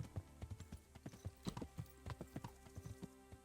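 A horse's hooves clip-clop at a steady walking rhythm in the medieval video game Kingdom Come: Deliverance, each hoofbeat distinct but fairly quiet.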